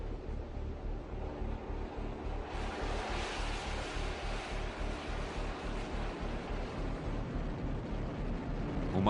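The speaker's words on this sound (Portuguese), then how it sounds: "Uma torrente de vapor capaz de virar uma turbina e gerar eletricidade" Steam roars in a continuous, loud torrent from a drilled geothermal well tapping water at 300 °C or more, a broad hissing rush that swells fuller after the first few seconds and holds steady to the end.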